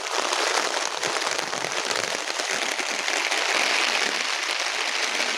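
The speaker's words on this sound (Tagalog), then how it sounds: "lakas ng ulan." Heavy rain pounding down at a farm hut in San Ildefonso, Bulacan, a dense, loud, unbroken hiss of drops on surfaces close by.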